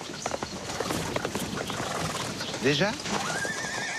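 A horse in a French period comedy film whinnies sharply over steady clip-clopping hooves, while people talk briefly and a short spoken word is heard.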